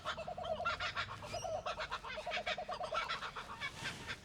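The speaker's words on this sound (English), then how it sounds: "For those of you listening, that's a kookaburra." A kookaburra calls in a loud, rapid series of cackling, honking hoots that rise and fall rhythmically, close by and alone, with no voices over it.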